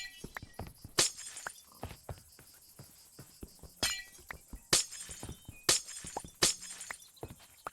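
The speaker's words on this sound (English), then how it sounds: "Actually, just glass breaking sounds." Glass shatters repeatedly in a modded homestead farming video game: about six sharp, bright smashes spread over several seconds, with small clinks and taps between them and no voices.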